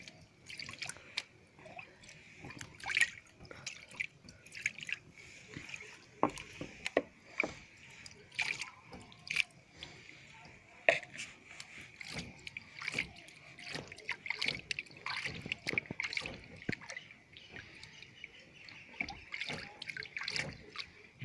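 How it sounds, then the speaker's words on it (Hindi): Water is poured and splashed over a Photoline HR matte photo sheet, giving irregular drips and trickles that come and go in bursts, close and fairly clear, with no talking. "अच्छे से पानी डाल देंगे दोनों तरफ से"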